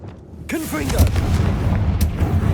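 A Confringo spell blast in Hogwarts Legacy: a booming explosive burst with rumbling low end, followed by a second sharp crack, heard right after a spoken incantation.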